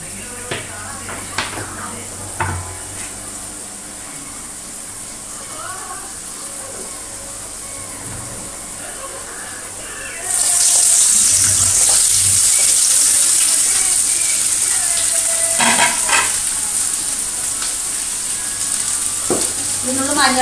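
Potato, green chili, onion and half a brinjal sautéed in hot oil in a pan, a steady close sizzle that grows much louder and brighter partway through as the vegetables hit the oil, with occasional stirring clatter.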